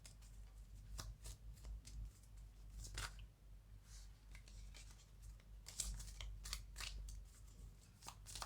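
Tarot cards being shuffled by hand, quiet close riffles and flicks in irregular bursts over a low hum, with no speech.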